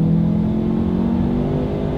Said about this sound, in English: let's do a quick little acceleration and let's see how quickly we can get the new 2020 Lincoln